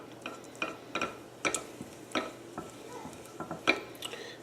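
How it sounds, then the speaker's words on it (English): Fudge stirred in a pot with a little milk, a spoon scraping and knocking against the pot in irregular close strokes, fairly quiet with no talking. "We'll just stir this around."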